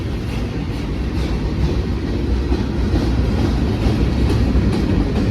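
BNSF center beam freight cars roll steadily past at close range, a continuous heavy rumble of wheels and rail with faint rhythmic clacking, no voices.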